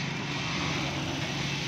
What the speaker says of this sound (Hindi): ये भी मैं आपको पहली सिलाई लगा के दिखाता हूँ आपको